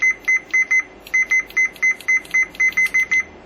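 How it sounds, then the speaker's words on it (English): A Fluke multimeter on continuity test gives a rapid string of about fourteen short, sharp electronic beeps in quick, even succession, loud and close, with only a faint background underneath. "if you do use your Fluke on continuity test, as such, you have a very rapid"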